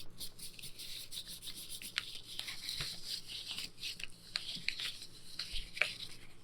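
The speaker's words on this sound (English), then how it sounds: "The paper crisping around is part of this." Paper crinkling and rubbing up close while a new marker is used, giving soft continuous scratchy rustling with occasional faint crisp ticks and crackles, quiet and intimate, with no one speaking.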